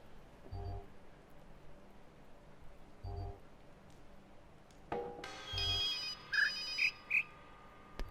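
A telephone ringtone sounds in the second half, a bright electronic melody of several tones rising over low background noise, after a few soft low thumps in the video game The Witness.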